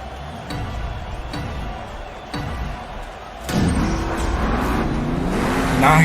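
At a monster truck freestyle show, a truck's engine roars and revs hard as it pulls a big wheelie off a ramp, rising to a loud climbing snarl over crowd noise, with a commentator talking.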